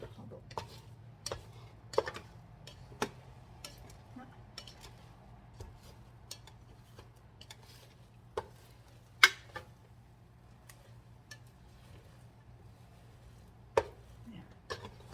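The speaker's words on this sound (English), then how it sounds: "I'm just giving it a good quick stir." A wooden paddle stirs cooked sprouted brown and red rice in a rice cooker pot, giving scattered soft scrapes and sharp little taps against the pot over a low steady hum, close and fairly quiet.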